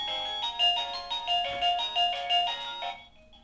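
A Neon portable plug-in wireless doorbell plays a bright electronic chime melody close by, a run of repeating two-tone notes that stops after about three seconds.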